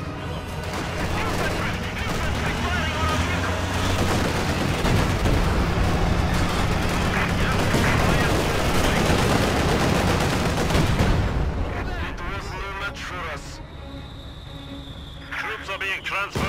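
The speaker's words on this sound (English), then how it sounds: "Infantry! Firing on our vehicle!" Dense battlefield din in the Company of Heroes 2 strategy game during a Soviet assault on Berlin's Reichstag: sustained infantry gunfire and crackling shots under a continuous roar, thinning out near the end with sparse scattered pops.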